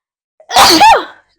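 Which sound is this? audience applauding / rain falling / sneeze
sneeze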